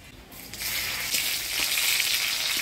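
Dried chili, black cumin and crushed garlic hit hot oil, starting quiet and then swelling into a loud, steady, bright sizzle heard close up.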